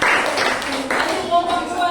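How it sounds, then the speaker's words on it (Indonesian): A school class in an elementary classroom claps together after a group presentation, a brief steady burst of applause blended with voices. "kalau tidak ada kita kasih aplaus"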